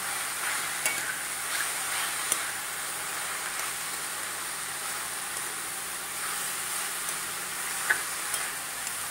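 Grated amla mixture with jaggery, salt and red chili being stirred in a dry pan, a faint, steady scraping hiss with occasional small utensil taps, no voices.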